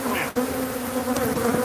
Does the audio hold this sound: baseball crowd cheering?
no